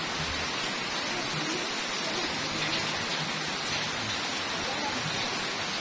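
Steady rainfall, a dense even patter on surfaces that holds at a constant, moderate level throughout, with no voices.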